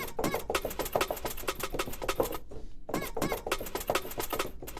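A fast, busy drum break sample, Massive Break, loops with tight repeated hits and cymbal wash, briefly dropping out before restarting at the same driving pace.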